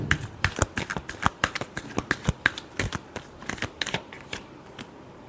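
Tarot cards being shuffled give a quick run of crisp, evenly spaced riffling snaps, close and alone, tapering off near the end.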